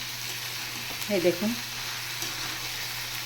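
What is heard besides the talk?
taro leaves and soybeans frying in a pan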